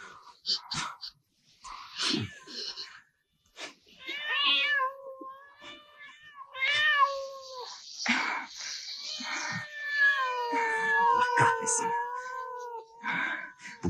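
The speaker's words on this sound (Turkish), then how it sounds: "Bu kedi milletinden de rahat yok be." Cat meowing repeatedly in a film scene, the cries rising and falling amid actors' dialogue, with several drawn-out meows clearly audible near the microphone between and over the talk.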